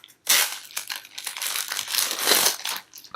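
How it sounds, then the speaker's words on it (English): Resealable plastic bags holding sprues of a golden robot model kit being opened and handled, with loud, continuous close-up crinkling and crumpling of plastic in irregular bursts, alone without talk. "So comes in resealable plastic bags."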